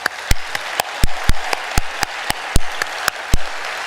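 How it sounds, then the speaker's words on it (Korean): At a Korean church testimony service, a congregation claps in unison in sharp, evenly spaced beats, roughly three to four per second, over a low room murmur. "하나님께 영광의 박수"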